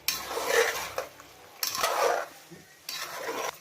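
Spoon scraping and clinking in a pot while chili powder is stirred into Telangana-style talakaya (snake gourd) curry, three separate bursts of stirring with short pauses between, close and moderately loud, no talk.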